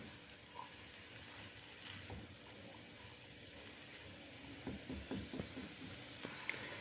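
A Spanish omelette seasoned with white and black pepper fries in a pan with a soft, steady sizzle, faint and close, with a few light clinks of stirring near the end and no voices.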